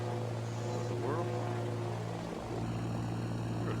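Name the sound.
small plane engine sound in a flight video game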